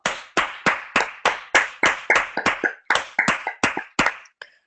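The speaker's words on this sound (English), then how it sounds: "Give yourself a big applause." A few people clap for themselves together in a quiet room, a steady run of about a dozen sharp, close hand claps that thin out and stop, with no talking.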